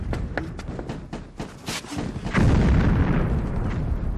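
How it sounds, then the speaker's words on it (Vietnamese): Police gunfire aimed at a row of houses in a Vietnamese drama, heard as a rapid string of loud sharp shots followed by a heavy rumbling blast of noise, with no talking. "cảnh sát thì bắn về dãy nhà mình"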